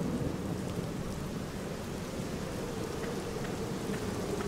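Steady rain pours throughout an outdoor scene near a noble family's tomb in The Black Mirror video game, a dense, even hiss with low rumbling underneath and no voices.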